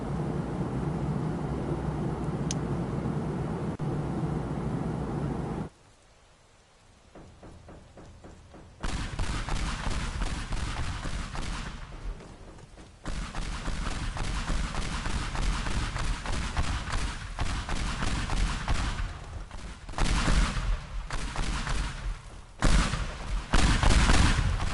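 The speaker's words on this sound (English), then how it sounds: "Airstrike." Airstrike explosions in the demolition video game Teardown, dense rumbling blasts and crackling debris in long loud bursts, with a short near-silent gap before heavy, sustained detonations resume.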